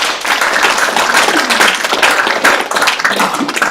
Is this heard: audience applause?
yes